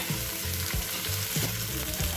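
Loud, close frying of chicken in oil with dense crackling and popping sizzle, continuous throughout with no voices.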